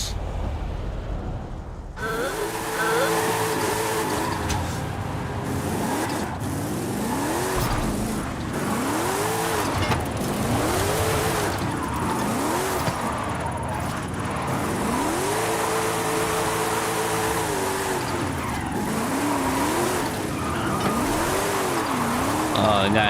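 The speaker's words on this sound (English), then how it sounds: "Let's do Corvette drifts." Corvette drifting in the Forza Horizon racing game, its engine note climbing and falling in repeated revving arcs with tire squeal, loud and continuous, with a voice talking over it.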